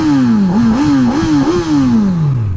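A 2018 Honda CB1000R motorcycle engine revs loudly up close, pitch wavering through several blips before sliding steadily down as it settles, with mechanical clatter underneath and no talking.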